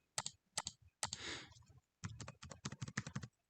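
Quiet computer keyboard clicks, short rapid keystrokes in small bursts with a longer soft rustle partway through, close and alone without talk.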